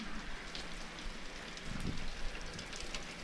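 Steady rain falls outdoors as a storm arrives, a dense, continuous hiss of drops on surfaces with a brief low rumble near the middle; no voices.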